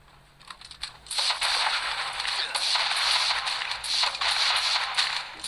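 Cannon fire in a turret-defense video game, a dense, continuous barrage of rapid blasts merging into a steady roar after a quieter start, loud and close with no talk.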